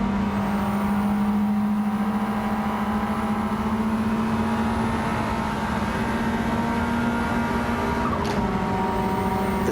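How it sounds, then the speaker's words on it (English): A turbocharged car's engine drones steadily while driving, with a rising turbo whine and a gear change near the end and no talk. "The turbo sound."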